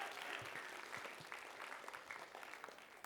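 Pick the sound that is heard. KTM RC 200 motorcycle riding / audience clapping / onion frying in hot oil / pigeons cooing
audience clapping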